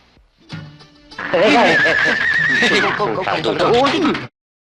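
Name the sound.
horse neighing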